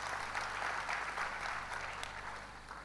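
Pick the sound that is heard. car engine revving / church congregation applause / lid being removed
church congregation applause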